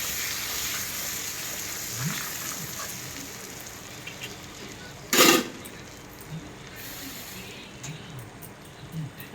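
Spice paste with green chili frying in a pan, a steady soft sizzle running throughout with one brief louder burst midway.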